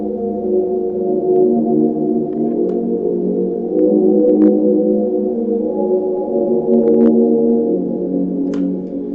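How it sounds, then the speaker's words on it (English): Warm, sustained synth pad from Analog Lab's Free Bass preset, a dense layered chord drone holding steady for several seconds with a few faint high blips on top, alone with no talking. "So I started with this little pad from Analog Lab."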